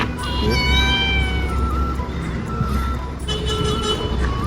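A cat meows with rising and falling harmonic cries early on and again near the end, set against a steady low rumble of traffic or engine noise.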